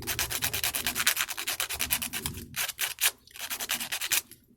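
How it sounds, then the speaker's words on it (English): Sandpaper rubbed in quick, steady back-and-forth strokes on a handmade amulet, a close, dry rasping that runs without pause before breaking briefly near the end, with no voices. "This is definitely the wrong sandpaper."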